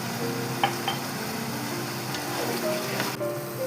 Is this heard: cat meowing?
no